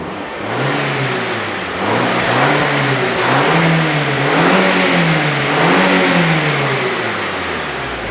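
A car engine, diagnosed for a cylinder 4 and cylinder 2 misfire, revs up in repeated surges as the accelerator is pressed, rising and falling several times over a steady idle, close and loud with no talk.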